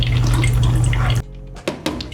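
Water runs through a Mr. Coffee drip coffee machine with a filter paper fitted, a loud rushing gush that cuts off sharply into a few soft drips and trickles.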